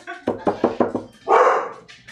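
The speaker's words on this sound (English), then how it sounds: "Don't knock on the barrel." Knuckles rap on a wooden bourbon barrel: five quick, hollow knocks in an even rhythm, close and loud, followed by a short, louder bark-like burst.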